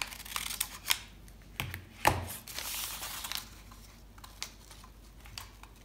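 Scissors snipping adhesive tape into strips for framing a watercolor painting, a few faint crisp cuts and crinkles scattered over quiet room tone.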